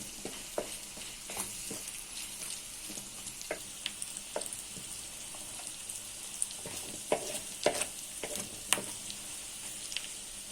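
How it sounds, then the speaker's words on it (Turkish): Liver being sautéed Gaziantep style in a pan, a soft steady sizzle broken by scattered crisp pops and spatula scrapes as it is stirred, moderately quiet and close. "rengi dönene kadar iyice kavur"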